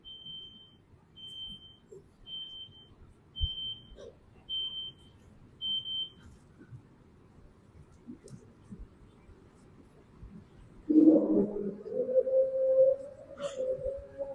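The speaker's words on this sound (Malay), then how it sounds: "Bunyi dah tu, bagi azan dulu" A Maghrib Islamic call to prayer rises in the last few seconds as a sustained, amplified melodic voice, preceded by a quiet room with a series of short, evenly spaced high electronic beeps.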